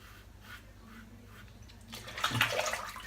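A safety razor, a Gillette Rocket HD500, is dipped and swished in hot water, a close splashing and trickling that grows louder in the second half over a steady watery background.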